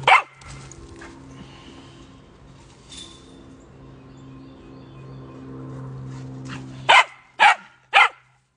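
A pet dog fires off three sharp barks in quick succession near the end, following an earlier yip and a stretch of low droning background noise, with no talking.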